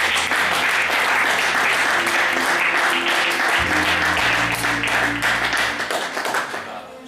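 A church congregation bursts into applause, a dense wash of many hands clapping steadily for about seven seconds, with some voices and low tones mixed underneath before it tapers off.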